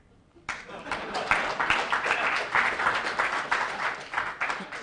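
A studio audience at a televised town hall breaks into steady applause that starts suddenly and holds loud and dense, with a voice speaking faintly beneath.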